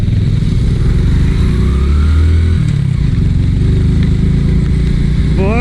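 Motorcycle climbing a steep mountain road in first gear in Upper Neelum, Kashmir, with a loud, steady, laboring engine drone that holds its pitch, shifts slightly midway, and stays close throughout.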